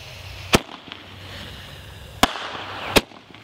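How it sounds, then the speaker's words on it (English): Three sharp firework bangs burst out of a low outdoor rumble, one early, then two closer together near the end, each loud and abrupt. "just watch out for the fireworks"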